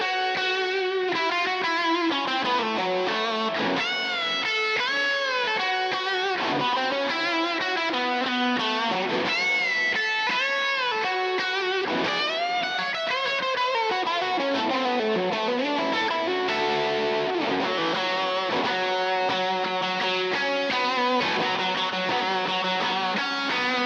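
Distorted electric guitar played through a Kemper profiler with heavy delay and a reverb pedal plays a sustained melodic solo with long echoing trails under a continuous wash of chords.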